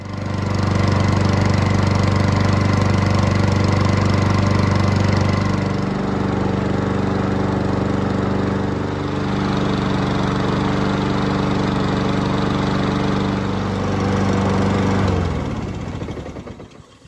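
Honda HRX 217 lawn mower engine running loud and steady at close range with a strong rumbling drone, then cutting off near the end as the sound dies away.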